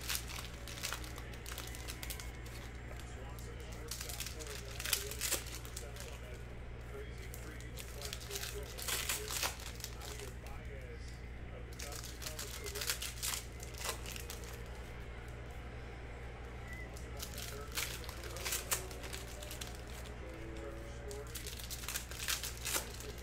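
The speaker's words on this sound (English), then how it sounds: "Now let's rip open these packs." Panini Mosaic basketball card packs are torn open up close, with soft crinkling and tearing of foil wrappers over a steady low hum, and a person talks in between.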